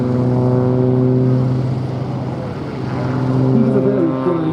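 A propeller aircraft drones through a solo display at the Duxford air show, a loud steady engine hum that dips and swells again as it passes.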